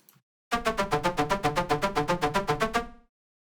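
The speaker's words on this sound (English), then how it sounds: "there is a synth in the drop playing this counter melody" A dry Serum synth preset with no effects plays an electronic dance drop counter melody: about fifteen evenly pulsed, bright, buzzy notes in quick succession, loud and alone, ending abruptly.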